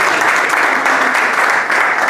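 Audience applause at a lecture, greeting Dr. Carlos Monteiro as he stands: a steady, loud, dense wash of many hands clapping, with no voices over it.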